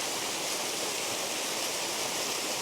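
A very narrow waterfall pours with a steady, dense hiss of falling water, constant and unbroken, with no voices.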